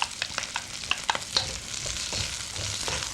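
Mushrooms tossed into onions stir-frying in a hot wok, with a steady sizzle and sharp clicks and scrapes of stirring at the start, continuing close and busy without talk.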